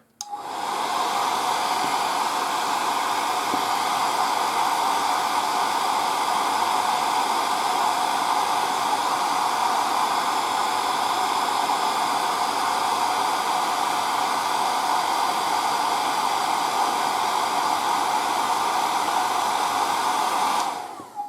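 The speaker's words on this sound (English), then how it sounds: "So just let's use the air dry." A hand-held air dryer blows steadily and loudly on a freshly painted 1:35 scale M3 Lee tank turret, a continuous broadband whoosh with no break and no talking.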